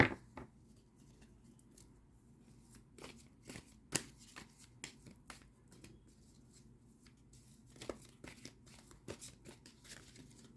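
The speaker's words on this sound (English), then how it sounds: "And maybe one more shuffle" Tarot cards being shuffled by hand, a series of soft riffling snaps and brushes in irregular bursts, close and quiet with no talking.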